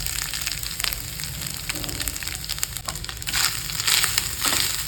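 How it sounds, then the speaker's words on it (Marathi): Grated fresh coconut frying in melted ghee, a dense steady crackling sizzle that swells slightly toward the end, close and continuous. "हे तूप छान असं मेल्ट झालं की आपल्याला त्याच्यात ओल्या नारळाचं कीट टाकून घ्यायचं"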